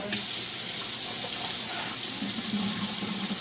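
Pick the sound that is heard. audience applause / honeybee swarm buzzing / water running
water running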